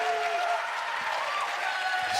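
An esports arena crowd in Arlington applauds throughout, a dense, continuous wash of clapping with faint cheering on top, steady and loud for the whole span.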